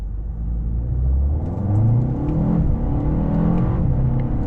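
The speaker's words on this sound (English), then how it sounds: "Look at how quick that dual clutch is, zipping through the gears with the paddles" A Mercedes-Benz CLA 250 accelerates hard as its dual-clutch gearbox snaps through paddle-shifted gears, the engine note repeatedly climbing then dropping with each quick shift, heard from inside the car without talking.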